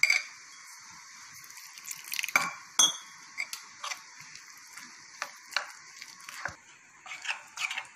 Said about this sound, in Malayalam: അപ്പോൾ ഇതാ കുറേശ്ശെ വെള്ളമൊഴിച്ച് മിക്സ് ചെയ്തിട്ടുണ്ട്